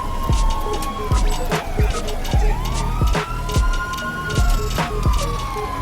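An ambulance siren wails in a video game, loud and cycling, over steady rhythmic thumping beats.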